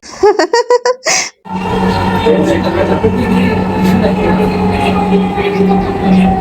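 A Dhaka metro rail train at a station platform: a sharp burst of clatter, then a steady low rumble and hum with a constant tone underneath, while crowd voices and some laughter carry over the top.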